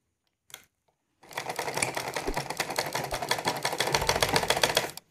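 A sewing machine runs steadily for about four seconds, stitching elastic onto a salwar waistband, its rapid needle clatter loud and close and ending abruptly, with a short burst of motor sound just before it starts.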